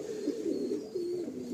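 Breeding pair of pigeons cooing close by, a continuous low rolling coo with slight pitch rises, fairly quiet and unaccompanied by speech.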